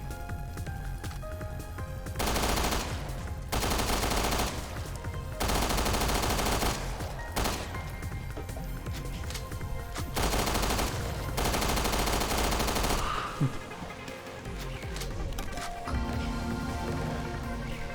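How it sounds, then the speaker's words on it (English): Machine pistol fire in Resident Evil Revelations 2, loud rapid full-auto bursts of a second or two each, repeated several times with short pauses between, over a game soundtrack, then tapering off near the end. "We should use the machine pistol more since we have it."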